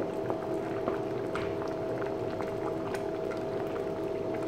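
Vegetables simmering in a pot of water for a traditional Pongal gravy, a continuous close bubbling and gurgling boil with faint tonal hum underneath, no voices.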